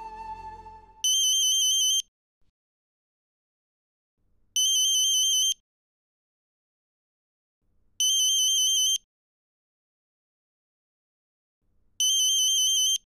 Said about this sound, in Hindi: प्राइवेट नंबर पे कौन फोन कर सकता?